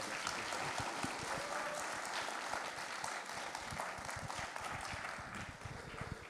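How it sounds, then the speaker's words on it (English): Churchgoers at a Sunday service clap together in sustained, dense applause, heard fairly distant and soft as the clapping slowly tapers near the end. "Can we just give them a round of applause?"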